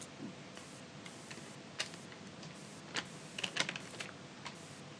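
Scattered keystrokes on a computer keyboard, a few distinct clicks spread over several seconds against a steady background hiss, fairly quiet and without talk.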